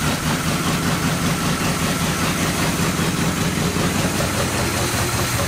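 An old muscle car, stored for 33 years, idles on 30-year-old gas with a loud, steady, rough rumble that runs without a break, heard close up and with no talking.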